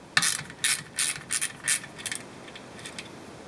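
A ratchet with a 1/4 inch socket loosening a washing machine motor clip, a quick series of close, sharp clicking bursts that grow fainter toward the end.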